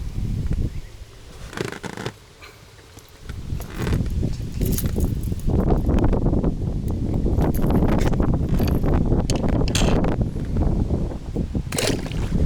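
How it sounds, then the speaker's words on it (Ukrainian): Strong wind buffets the microphone in continuous roaring gusts on a boat while fishing, loud and rumbling throughout, with faint splashing underneath. "Ви бачите, який дуже сильний вітер мене просто так несе"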